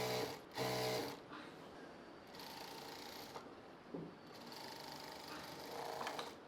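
A sewing machine stitches a palazzo pant seam at the crotch, running in short broken bursts with brief pauses, close and moderately loud.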